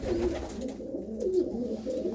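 Pigeons in a fancier's loft in a Punjab village give low, rolling coos in a steady repeating rhythm, close and moderately loud, with nobody talking.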